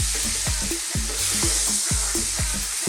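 Ground coriander, cumin, chili and turmeric with salt frying over fairly high heat for a beef and tomato curry, a steady loud hiss broken by regular scraping stirs about every half second, close up with no talking.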